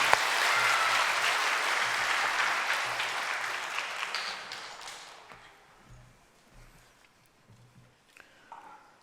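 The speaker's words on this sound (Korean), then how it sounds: "감사 박수 영광 돌립니다" Congregation applause at a Korean church Easter union service, a loud sustained wash of clapping that gradually fades and thins out into scattered claps.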